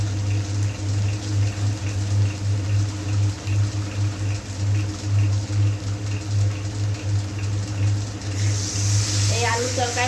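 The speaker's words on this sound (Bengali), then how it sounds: "এরপর আমি জল ঢেলে দেবো" Water is poured into a pan of potato curry near the end, a rushing splash that rises over a steady, loud low hum running throughout.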